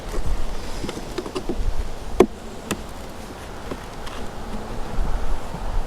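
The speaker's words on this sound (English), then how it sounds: "There's a lot of bees down underneath it though" Honey bees buzz in an opened hive during an inspection, with a soft, continuous hum close by and a few clicks and rustles of frames being handled.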